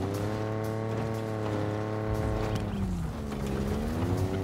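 Warthog vehicle driven in Halo Infinite co-op campaign, a steady loud engine drone with strong harmonic hum that rises and bends in pitch near the end, continuous throughout with no talk.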